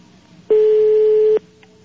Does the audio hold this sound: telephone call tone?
yes